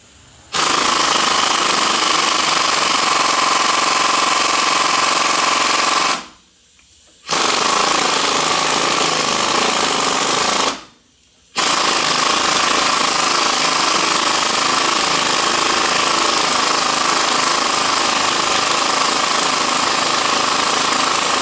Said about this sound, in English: that air impact on this one now